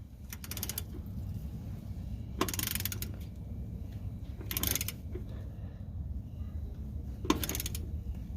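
A ratchet clicks in four separate quick bursts while snugging the coilover strut bolts on a Chevy Tahoe front suspension, close by against a low background hum.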